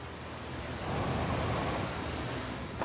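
Water waves in the space exploration game Outer Wilds, a steady low surf-like rush that builds slightly then holds, quiet and alone.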